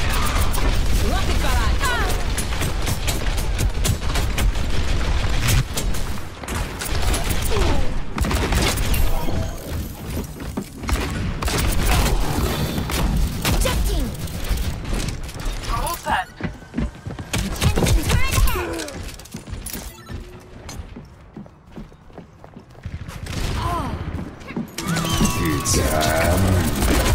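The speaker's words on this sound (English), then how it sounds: "Rocket barrage!" Rocket barrage in the Overwatch video game, a loud, dense run of rapid explosions and impacts with mechanical clatter, thick at first, then thinning into scattered blasts, with voices mixed in.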